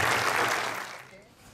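Audience applause at a folk concert by La Tuna Folk in Barri del 13, a dense wash of clapping that fades toward the end with some voices mixed in.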